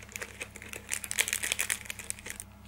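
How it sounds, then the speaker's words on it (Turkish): A noodle seasoning packet torn open with the teeth, giving close, crinkly plastic rustling and crackling in quick uneven bursts with a few sharper tearing bits, no talking. "Bıçak getirmemişim de yanıma dişimle açıyorum klasik."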